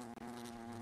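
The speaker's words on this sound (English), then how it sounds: "Got me a little wasp." A small wasp buzzes steadily with a constant droning hum, brief and faint, with a tiny dropout near the start.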